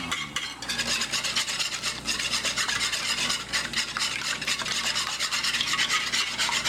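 A wire whisk beats eggs in a bowl in quick, continuous strokes, producing a fast, rhythmic metallic scraping and sloshing close up that keeps going without pause.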